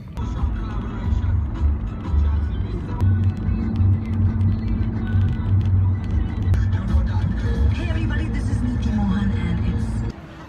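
A car is driven on the road during a UAE driving lesson, a steady low engine and road hum filling the whole stretch without letup, with talk over it.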